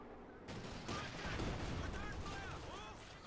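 Gunfire in a Company of Heroes 2 battle: distant rattling bursts of rifle and machine-gun fire mixed with thuds and crackles, with whistling projectiles toward the end, all fairly quiet and continuous.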